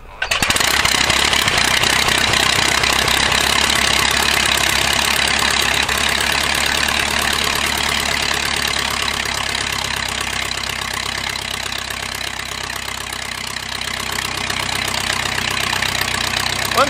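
A Tiger Moth biplane engine catches abruptly and then runs loud and steady at idle, a close, continuous rumbling drone with no talk.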